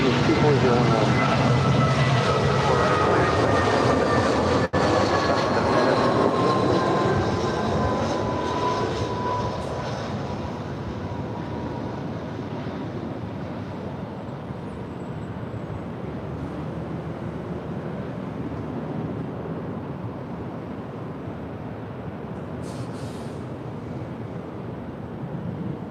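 A Delta airliner landing on runway 24R at LAX roars loudly and steadily, its engine whine slowly fading and settling into a sustained rumble over about half a minute, with no talking.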